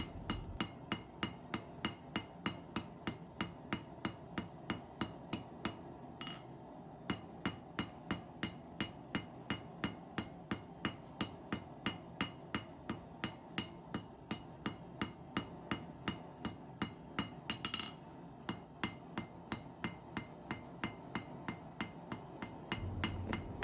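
Steady, rhythmic hammer blows ring on bronze on an anvil, dozens of evenly spaced sharp strikes close by with only brief pauses.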